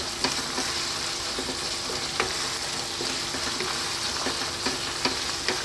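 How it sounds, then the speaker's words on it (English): Chili powder, turmeric, cumin and coriander frying in oil in a pan for rajma red bean curry, a constant close sizzle with occasional spoon taps and scrapes as the spices are stirred. "Give it a nice mix in there."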